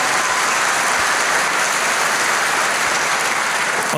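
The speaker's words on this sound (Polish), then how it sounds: "Wielkie brawa za to twoje zaangażowanie." Audience applause at a festival talk with the Polish blogger Jakobe Mansztajn at Pol'and'Rock 2021, a dense, steady wash of many clapping hands filling the whole stretch, loud and sustained with no speech.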